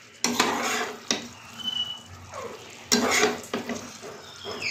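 Duck meat sizzles in oil in a pot as it is stirred vigorously, with sharp metallic scrapes and clanks of a spoon against the pan breaking up a steady frying hiss.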